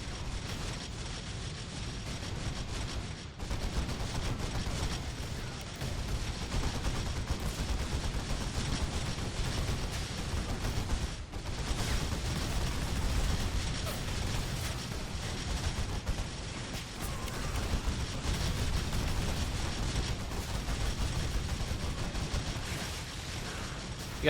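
Heavy bolter fire from a Warhammer 40k Space Marine battle rattles on steadily, a dense, continuous barrage of booming shots and distant explosions that runs unbroken throughout, with no talk.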